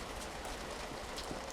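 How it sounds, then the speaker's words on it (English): Steady rain falls over an abandoned post-Soviet concrete area with a fountain in a dystopian immersive-sim game, a soft, continuous hiss with faint scattered drops. "Nothing but the rain."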